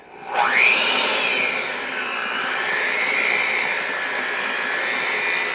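Electric mixer whirring through vanilla cake batter with baking powder just added, a sharp rising whine at start-up that settles into a steady, loud, close hum with no talking.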